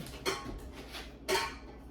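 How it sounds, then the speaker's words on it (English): Two pounds of softened cream cheese dropped into a KitchenAid stand mixer bowl, giving two brief clunks of contact against the bowl about a second apart, soft and close with quiet room tone between. "I've got 2 pounds of softened cream cheese here that we're just gonna throw right into our KitchenAid mixer."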